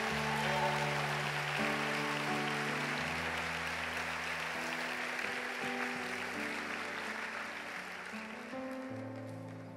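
A church congregation applauds in a steady, continuous wash of clapping that fades slightly toward the end, with sustained organ or keyboard chords playing underneath.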